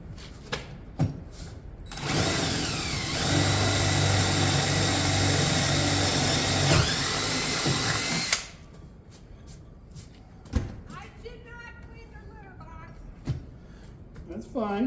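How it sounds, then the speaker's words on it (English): A power drill bores up through the underside of a wooden wagon, a steady loud whine of about six seconds with shifting pitch. Short knocks come before it, and quieter handling noises and brief clatter follow. "Now I gotta drill from the bottom up."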